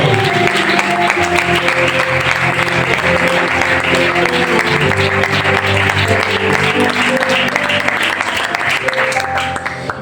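A church congregation applauds, a dense, steady wash of clapping that holds at an even level for the whole stretch, with sustained musical tones running underneath.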